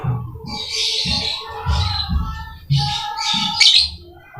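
Lovebirds chirping in short repeated bursts of bright, close twittering calls, fairly loud and continuous, with no talk over them.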